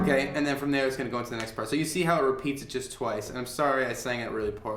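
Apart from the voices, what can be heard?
No everyday noise stands out behind the speech.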